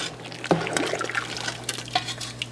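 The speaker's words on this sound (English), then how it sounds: "And here they are blanching. And this water is hot." Purple hull peas blanching in very hot water in a pot, with soft liquid sloshing, a few clinks of a utensil against the pot and faint drips over a low steady hum.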